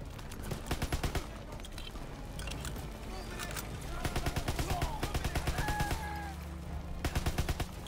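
Rapid gunfire in the World War 2 shooter game Call of Duty, bursts of automatic shots in quick rhythmic volleys, loud and near, with someone talking over the action.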